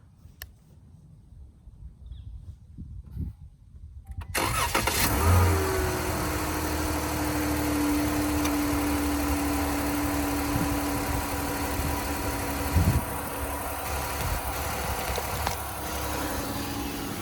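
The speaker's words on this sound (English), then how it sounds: "And we're gonna crank the car." A car engine cranks and catches after a quiet stretch with small clicks and handling noises, then settles into a steady idle that runs on loudly for the rest of the clip.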